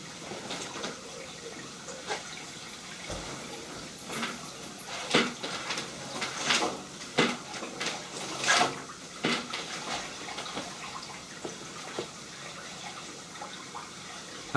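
Water runs and splashes through a household drain pipe, with irregular gurgles and trickles echoing inside the pipe at moderate loudness, no voices.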